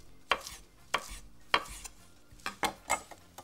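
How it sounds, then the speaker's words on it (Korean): A knife cuts lettuce finely on a cutting board, making about six sharp, quiet chops at an uneven pace, with short gaps between them and no one talking. "상추는요 대충 잘게 썰어주세요"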